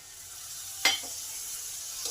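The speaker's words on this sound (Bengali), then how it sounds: "মশলাগুলো ভালোভাবে কষার জন্য 2 টেবিল চামচ জল যোগ করলাম" Spices and white sesame sautéing in a pan with a splash of water and little oil for an eggplant dish: a soft steady sizzle with one sharper hiss burst and a faint stir or scrape, no talk.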